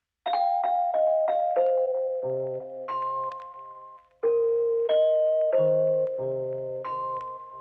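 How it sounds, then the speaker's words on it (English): A synthesized bell melody from an Expand 2 preset plays clear, ringing notes in a slow sequence, each strike decaying gently, with a brief pause midway before the phrase repeats. "I went down to a melody and listen to that. Bells."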